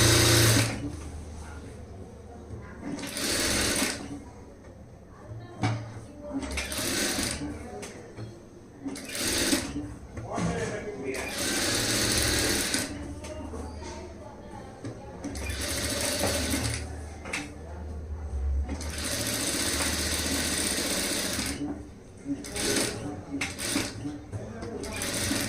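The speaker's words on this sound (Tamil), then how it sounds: "இந்த வளைவு டேனிங்கில் கொஞ்சம் மெதுவாக தையல் போடுங்க" A sewing machine stitches a blouse in repeated runs, a close rapid mechanical whirring that starts and stops many times, with someone speaking over and between the bursts.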